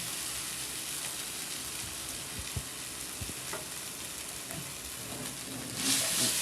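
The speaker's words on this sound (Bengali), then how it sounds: "ঢেলে দেওয়ার পর কিন্তু এবার ভালোভাবে নাড়তে হবে।" Homemade noodles stirred in a hot pan give a steady close sizzle and frying hiss, with a few soft scraping knocks from the stirring and a brighter burst of sizzling near the end.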